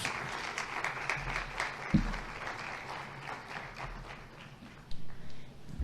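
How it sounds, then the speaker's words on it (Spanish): Applause from an audience at a formal Spanish-language presentation on plans for a national alternative dispute resolution centre, a dense steady clatter of many hands lasting several seconds with a thump early on. "yo creo que merecen un aplauso por la exposición que nos han dado de los dos proyectos"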